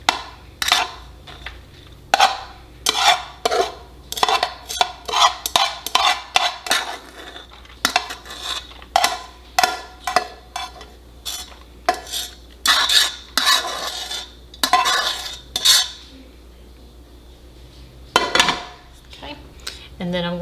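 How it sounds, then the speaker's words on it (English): Cooked quinoa being spread on a baking sheet with a silicone pad, making a run of sharp scraping and clinking strokes in quick bursts with short pauses, with occasional talking. "I'm going to take my quinoa, and I'm just going to put it on the baking sheet here."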